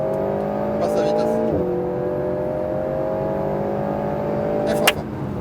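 An Alpine A110S accelerates on a race circuit, its engine note climbing in clear rising tones, dipping briefly at a gear change and then pulling again, with an instructor talking over it.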